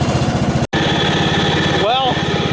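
A Craftsman riding lawn tractor with a swapped engine idles close by in a steady, pulsing small-engine chug, broken by one abrupt brief dropout, with someone speaking over it near the end.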